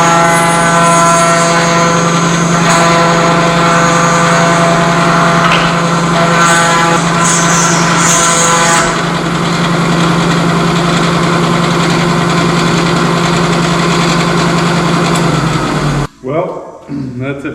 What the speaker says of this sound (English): Now I'm going to run through the shaper.